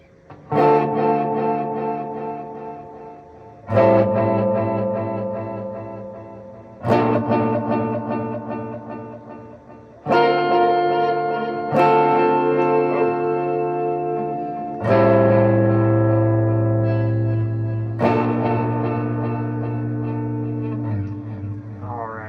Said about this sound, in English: So I'm going to hit setting 4, again, delay and reverb here.